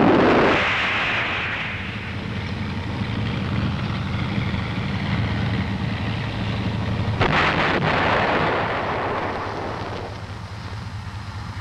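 Vietnam War footage of an M551 Sheridan tank firing its main gun, a sustained heavy boom and rumble with a sharp second blast partway through, loud and close against wind noise.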